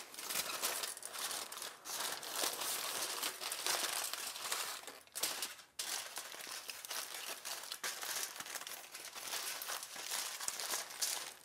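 Tin foil is crinkled and crumpled for several seconds while food is wrapped in it, a continuous close rustling with brief pauses and no talking.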